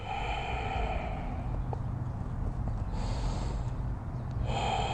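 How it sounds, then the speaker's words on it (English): Slow, deep breathing while holding a yoga stretch toward the splits or bird of paradise pose, soft and airy over a quiet, steady background with faint sustained tones. "Long, deep breaths."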